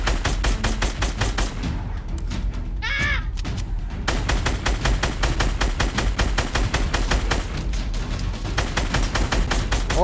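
Gunshots in Fortnite, a rapid, steady stream of sharp reports repeating evenly throughout, loud and close, with a short break and a brief vocal sound near the middle before the firing resumes.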